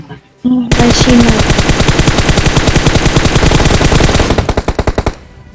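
Rapid automatic gunfire in a shooting video game, loud and close, a sustained rattling burst lasting several seconds that breaks into a few separated shots at the end; a short tone sounds just before it starts.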